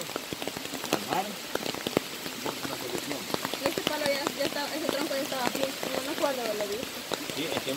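Heavy rain pours steadily close to a river, a dense continuous patter that stays up front while voices talk over it in places.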